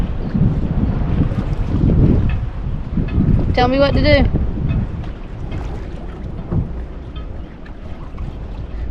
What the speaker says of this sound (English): kind of a windy day, so there's a lot of wind and current